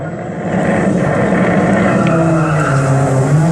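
A Subaru Impreza makes a drag racing run on the airfield strip at Elvington, York, its loud engine roaring close by with a steadily climbing pitch as it pulls hard down the straight.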